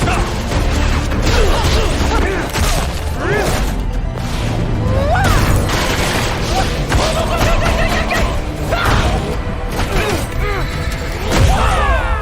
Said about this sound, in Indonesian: dihadang oleh para Black Dragon dan terjadilah pertarungan di antara mereka